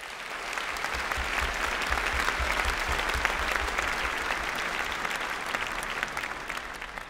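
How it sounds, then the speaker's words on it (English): Sustained applause from a large audience honouring graduates at a university postgraduate graduation ceremony for medicine and natural sciences, steady dense clapping filling the hall throughout with no speech over it. "Please join me in a round of applause to the graduates."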